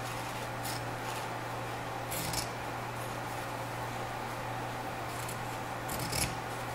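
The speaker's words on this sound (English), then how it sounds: "which is this zigzag kind of scissors" Zigzag pinking scissors snip through fabric, a few faint crisp cutting crunches over a low steady hum.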